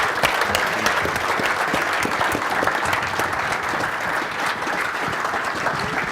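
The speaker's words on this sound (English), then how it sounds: "Let's have a big round of applause for Damian" Audience applause at a baking-industry BEMA Winter Summit panel welcomes Damian Morabito, with dense, steady clapping from a full room that runs unbroken throughout.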